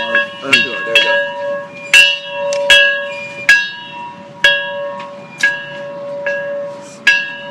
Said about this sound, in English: Everybody ring this bell.